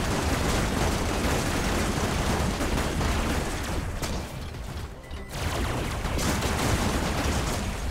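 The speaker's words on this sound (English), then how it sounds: "See him shooting his lasers" Laser weapons in the video game Robocraft Infinity fire in a relentless, loud stream of crackling shots, with a brief lull near the middle before the barrage resumes.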